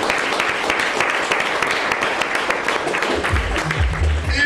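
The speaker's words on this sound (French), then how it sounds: "On peut applaudir le poète." An audience at a slam poetry final applauds a poet after the scores are read, with sustained clapping and some crowd noise, plus a brief low rumble near the end.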